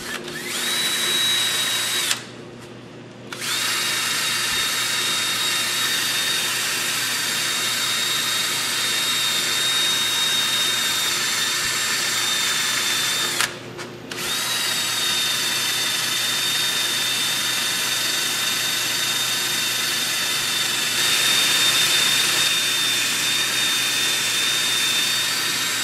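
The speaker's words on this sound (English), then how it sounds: "I'm going to use a drill with a buffing pad on it for the inside" A power drill fitted with a buffing pad whirs steadily at a high, constant pitch, close and loud, cutting out briefly twice before spinning back up, used on the inside of a cherry crotch wood bowl.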